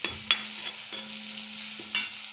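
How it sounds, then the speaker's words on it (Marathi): Chopped onion, ginger-garlic paste and tomato sautéing in oil in a pan, a soft steady sizzle broken by a few sharp stirring scrapes and clicks, close and moderately quiet with no talking. "बारीक कांदा चिरलेला परतून घेऊ। अद्रक लसणाची पेस्ट, टोमॅटो टाकूया।"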